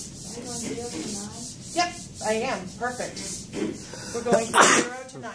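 A single sneeze bursts out near the end of a maths lesson on integrals, amid ongoing classroom talk and the rubbing of paper.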